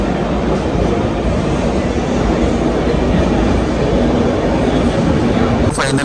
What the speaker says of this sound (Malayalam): ഇവിടെ സേലം റെയിൽവേ സ്റ്റേഷനിലാണ് ഇപ്പോൾ ഇരിക്കുന്നത്